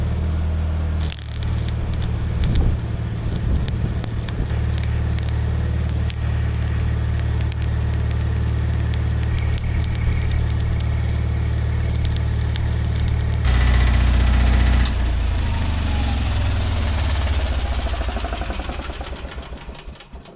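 An engine-driven welder drones steadily while rebar on a timber bridge approach is welded, a loud, constant mid-pitched engine hum that shifts load partway through and then winds down at the end.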